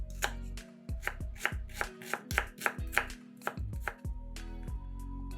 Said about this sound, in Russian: 1 луковицу нарезаем кубиками.